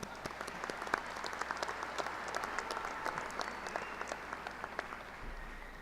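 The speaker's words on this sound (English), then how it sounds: "Let's give ourselves a round of applause for being here this morning." Commencement ceremony audience applauds, a dense, even roar of many hands clapping from a large crowd, heard faintly and from a distance, sustained throughout without speech.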